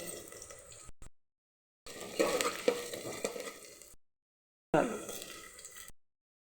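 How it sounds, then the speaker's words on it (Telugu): Onions frying with ginger garlic paste in a pan for tomato rice, a close sizzle with stirring heard in three separate bursts broken by silent gaps. "ఇలా పచ్చివాసన పోయే వరకు కొంచెం వేయించుకోవాలండి"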